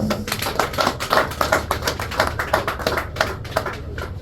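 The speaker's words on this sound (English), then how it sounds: "So we need a serious round of applause." A round of applause at a customs service gathering, with dense overlapping hand claps sounding steadily and fairly close throughout, carrying no spoken voices.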